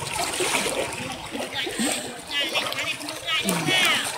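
A baby monkey splashing about while bathing and swimming in water, with soft irregular splashes and sloshing under a person's steady coaxing talk and whistly squeaks throughout.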